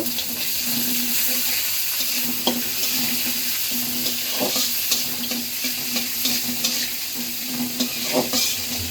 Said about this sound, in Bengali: 2 টেবিল চামচ ঘি দিয়ে আমি এখানে যে বাদাম, গরম মশলা আছে আর কিশমিশ আছে, এটা একটু ভেজে নিব।